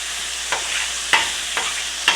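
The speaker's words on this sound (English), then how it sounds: "It looks kind of like stir frying, doesn't it?" Chicken stir-frying in a pan during chicken tetrazzini prep, a soft steady sizzle with a few sharp scrapes of a utensil at regular intervals, close and fairly quiet with no talking.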